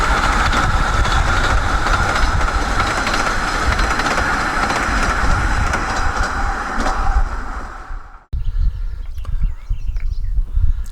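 The narrow gauge locomotive River Mite rumbles and clatters past close by at Murthwaite on the Ravenglass and Eskdale Railway, loud and steady, then cuts off abruptly, leaving quieter ambient noise and faint knocks.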